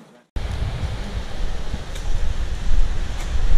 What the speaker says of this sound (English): That's not wind noise on a camera. That's heavy surf noise.